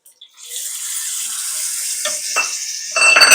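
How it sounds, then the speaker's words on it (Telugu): Mustard and cumin seeds sizzle in hot oil while tempering for ridge gourd chutney, a steady hissing crackle that starts softly and grows brighter and louder toward the end, with no talking. "పోపు గింజలు వేసాను ఆవాలు జీలకర్ర కొన్ని పోపు గింజలు అన్నీ కలిపినాయి"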